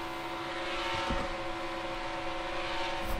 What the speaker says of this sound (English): that weird noise you are hearing is from the cars passing this car right here